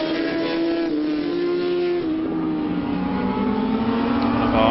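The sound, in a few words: racing motorcycle passing at Anglesey endurance race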